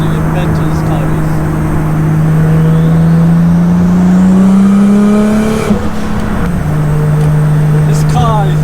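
Continuous engine roar from a 700bhp Nissan Skyline with a loud exhaust, rising in pitch as it accelerates through a gear, dropping briefly at a shift, then pulling again; steady and close throughout.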